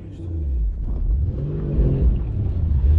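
Nissan Skyline drift taxi engine revving close by, a steady loud low rumble that swells and climbs toward the end, with no talk over it.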